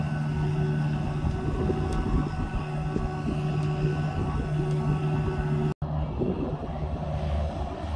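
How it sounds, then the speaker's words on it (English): A Kubota tractor's engine runs steadily near farm gardens, a loud, continuous diesel drone with a steady low hum and a momentary dropout near the end. "That is Jack driving the Kubota"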